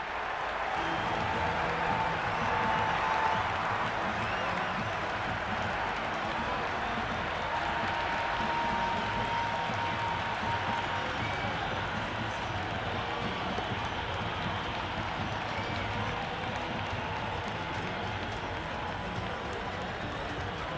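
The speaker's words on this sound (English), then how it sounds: "Will you listen to that crowd? They are loving this." A stadium crowd in the cricket video game Cricket 26 keeps up a continuous, loud roar of cheering and clapping throughout a Pakistan vs Sri Lanka T20 match.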